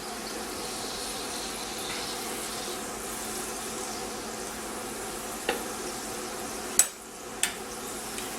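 Kritika, Greek sesame and nut pastries, fry in hot oil with a steady, moderate bubbling hiss. A few sharp taps of a utensil stirring in the pan break through in the last seconds.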